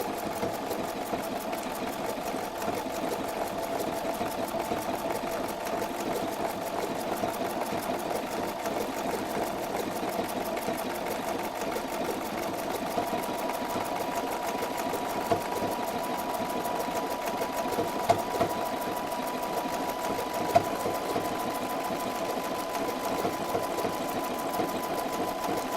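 A sewing machine stitches binding around the edge of a quilt, running as a steady, continuous mechanical hum and rapid needle chatter at close range with no talking.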